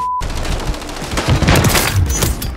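Dense, loud gunfire in a Search & Destroy shooter game, overlapping automatic bursts and cracks filling the clip right after a short beep.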